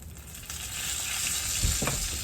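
Chicken pieces fry in hot oil for a fried chicken dinner, giving a steady close-up sizzle and crackle with a few louder pops and stirring knocks near the end.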